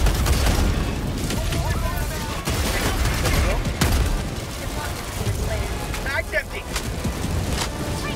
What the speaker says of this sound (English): I'll call in a orbital cannon